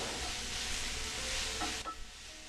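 Serrano peppers sizzling and cooking down in a hot pan, a close, steady crackling hiss that briefly drops off near the end as the pan is stirred.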